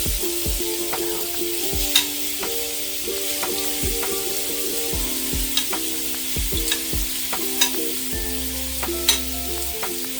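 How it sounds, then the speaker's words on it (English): Cod fillets sear in a preheated hot pan for fish tacos, a steady close sizzle broken by occasional sharp pops and spatula scrapes, with no voices. "Now we're just going to let it kind of sear on that side a little bit"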